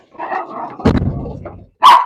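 A female dog barks at home in a warm room: a run of sharp barks and yips, then one loud, close bark near the end, with a little human voice mixed in.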